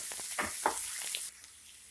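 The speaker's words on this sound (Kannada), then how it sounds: "ಈಗ ಕಟ್ ಮಾಡ್ಕೊಂಡಿರೋ ಈರುಳ್ಳಿ ಹಾಕ್ಕೊಳ್ಳಿ. ಈರುಳ್ಳಿ 1-2 ನಿಮಿಷ ಫ್ರೈ ಮಾಡ್ಕೊಳ್ಳಿ." Chopped onions sizzle as they fry in a pan for onion tomato chutney, with a few brief bursts of stirring or spatter before the frying settles into a quieter, steady hiss.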